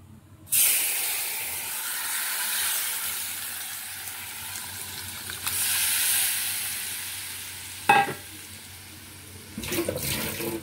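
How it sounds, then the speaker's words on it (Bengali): Boiled lentils poured into a hot tempering for a bitter-gourd dal, setting off a loud rushing hiss and sizzle that continues steadily, with a sharp clatter and a renewed burst of sizzling toward the end. "ফোড়নটা দেওয়া হয়ে গেলে এবারে যে ডালটা আমার সেদ্ধ করা ছিল, এই ডালটা আমি এতে দিয়ে দেবো।"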